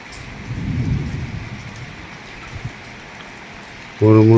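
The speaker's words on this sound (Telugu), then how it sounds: "ఉరుముల సౌండ్ మనం" Thunder rumbles low and broad during a late-night summer rainstorm outside an apartment building, with steady rain hissing throughout, and a voice briefly speaks near the end.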